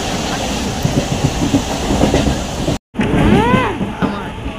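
A passenger train runs on, heard from inside an almost empty compartment: a loud, continuous rumble with rhythmic wheel clatter, briefly cut off midway and then resuming with a rising whine.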